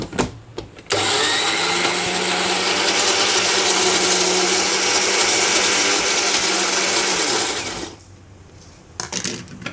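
A mixer grinder whirs steadily for about seven seconds grinding tamarind, chilli, salt and ginger, loud and continuous, starting and stopping abruptly with brief clatter before and after.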